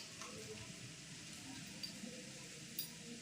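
Yellow rice tinted with a little food colouring fries in a pan with a steady, faint sizzle, broken by a few soft clicks and stirring scrapes.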